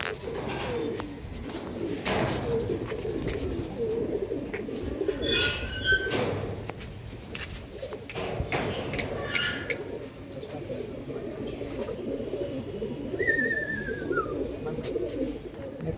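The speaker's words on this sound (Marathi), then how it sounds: "एकदम लाईट वेट कबूतर आहेत, एकदम कापसावणी कबूतर आहेत." Punjabi pigeons, light-bodied birds in a mixed-breed collection, coo in low steady rounds close by, one murmur overlapping the next across the whole stretch, with a few brief chirps from other birds above them.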